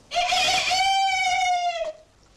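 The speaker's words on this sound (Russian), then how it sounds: "Петухи запели на рассвете." A single rooster crows loudly and close by at dawn, one long drawn-out call that ends abruptly, with quiet around it.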